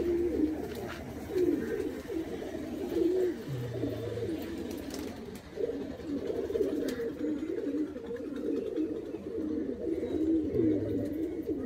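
Pigeons of the Pakistani-line Kalpetia breed coo in a high-flying pigeon loft in West Bengal, with low, throaty coos overlapping continuously and close to the listener.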